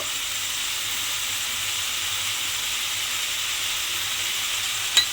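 Potatoes and pointed gourd with salt being stirred in a hot pan give a steady, even sizzle, with one brief scrape of the utensil near the end and no voices.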